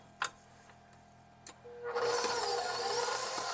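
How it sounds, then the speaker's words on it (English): A stand mixer starts up and begins creaming butter with brown sugar. After a couple of soft clicks, a steady motor whir rises and continues close and fairly loud. "Now I'm going to let the mixer work for me."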